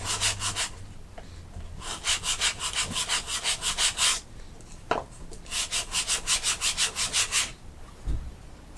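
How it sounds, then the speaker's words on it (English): A sanding block rubs rhythmically back and forth across wood in two quick bursts of strokes, close and scratchy, with no talking. "Got a handy dandy little sanding block."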